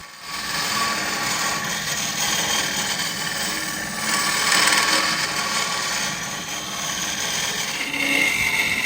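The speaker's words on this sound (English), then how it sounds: "I started with the drill to hollow out the center" A loud power drill whirs steadily into spalted maple while hollowing out a woodturning hollow form, grinding and buzzing continuously for several seconds with slight shifts in pitch as it bites.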